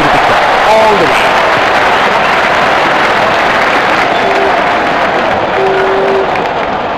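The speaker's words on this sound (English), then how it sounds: "Crowd is going crazy." A stadium crowd roars and cheers continuously in the mobile cricket game Real Cricket Go during an India versus Bangladesh match, a loud, dense wash of noise that never lets up.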